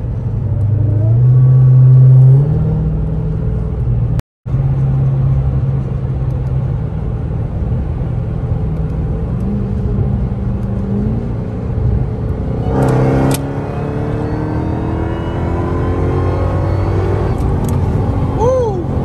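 A Jeep Trackhawk engine revs and accelerates through a pull, a loud continuous rumble with rising whine and a brief cut near the middle, then a fresh surge later on.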